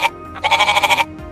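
A goat lets out one loud, wavering bleat with a quick pulsing tremor, clear and close, with brief quiet before and after.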